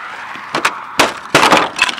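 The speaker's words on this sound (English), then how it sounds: "see that shattered it's like shattered glass here" Icicles and ice from freezing rain on palms in a snowy Missouri winter shattering like glass, heard as several sharp crackling breaks and splintering bursts, loud and close, with no talk.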